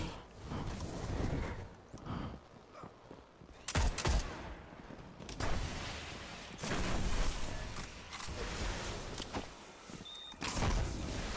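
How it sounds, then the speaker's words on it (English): Sniper rifle fire in the video game Destiny, with loud sharp shots cracking at intervals over steady dense game noise and effects. "Watch out, there's one sniping, so don't try and get in the way of the sniper."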